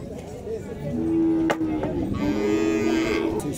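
A cow lows in a long, deep moo at a busy cattle market in Dois Riachos, Alagoas, rising over a steady crowd murmur and background voices.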